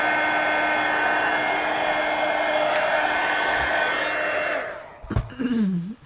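A hair dryer blows steadily on a coloring page, a loud close whooshing hum for several seconds before it cuts off, then a brief voice.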